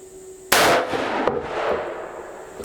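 A Taurus Raging Hunter .460 S&W Magnum revolver fires a single loud, sharp shot from a rest, followed by a long booming reverberation that slowly fades.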